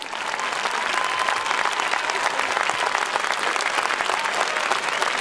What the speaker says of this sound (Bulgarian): Аплодисменти за децата и техните преподаватели!